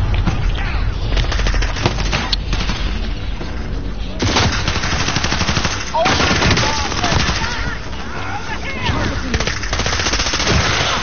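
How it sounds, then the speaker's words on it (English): Rapid bursts of automatic gunfire rattle almost nonstop, loud and dense, with overlapping shots and booms from a game's combat. "I can't hit nothing over these gunshots."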